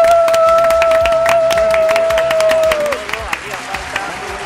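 Studio audience applause on a Spanish television show, loud continuous clapping and crowd noise that fades toward the end while a sustained musical tone plays underneath.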